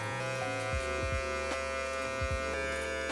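Electric clippers buzz steadily at close range while cutting a mid fade on hair, a constant electric hum with brief dips and shifts as the blade moves across the head.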